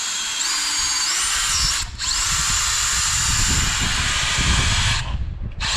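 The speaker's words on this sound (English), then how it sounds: "when you go to drill down in here, if you ever see this, the guide tool start to come up off of the plate" A power drill bores into a Honda cylinder head through a Time-Sert guide tool with a loud, continuous whirring grind. The drill cuts out briefly twice before running again.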